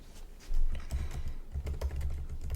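Close, rapid typing on a computer keyboard, a dense run of quick key clacks with a few heavier thumps, and no talk.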